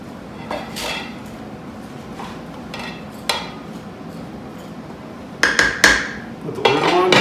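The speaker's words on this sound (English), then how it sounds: "Let's give it one last stir around, just so we can get everything coated with the moisture." Spoon stirring beef stew inside a Crock-Pot, soft scraping and clinks of utensil on the pot in sparse strokes, with a few louder knocks toward the end.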